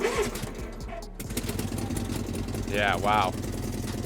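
An old tractor engine catches and runs with a rough, throbbing low rumble, close and continuous, while people talk briefly over it.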